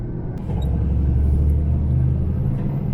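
A vehicle cruising along the A14 road, a steady low engine and road rumble that swells slightly after the first half second and then holds constant, close and continuous with no talking.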